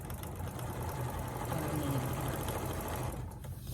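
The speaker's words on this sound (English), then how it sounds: "And then I just start sewing 1/4 of an inch" A sewing machine hums in a continuous, steady run while stitching patchwork quilt pieces for a tumbler baby quilt, close and even throughout.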